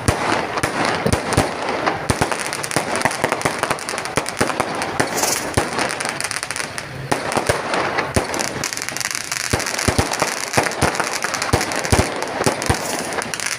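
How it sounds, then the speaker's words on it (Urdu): Fireworks crackle and burst continuously at an outdoor inauguration ceremony welcoming Ramadan, with dense firecracker pops and loud bangs filling the air without pause. "دیکھ رہے ہیں کہ کس طرح آتش بازی ہو رہی ہے"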